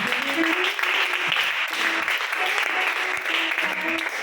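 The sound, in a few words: congregation applauding and acclaiming Jesus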